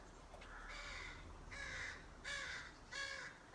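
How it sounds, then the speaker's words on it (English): Crows caw outdoors on a Sunday morning, four distinct harsh calls spaced about three-quarters of a second apart, moderately distant over a quiet background. "Crows are singing with us."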